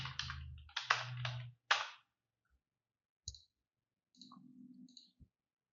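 Mouse clicks and key presses on a computer while working in CorelDRAW X8: a few quick clustered clicks, then isolated faint clicks separated by silence, close and quiet, with no talking.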